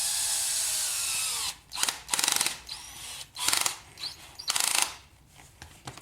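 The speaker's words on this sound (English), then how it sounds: "It sounds like my drill is dying." A struggling power drill bores a hole for a pressure gauge fitting: one long steady whine, then several short stuttering bursts separated by pauses.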